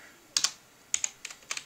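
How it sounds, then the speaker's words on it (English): Quick bursts of clicking keys on a computer keyboard as a console command is typed into Battlefield 3, several small clusters of crisp, close keystrokes in under two seconds. "So I type console"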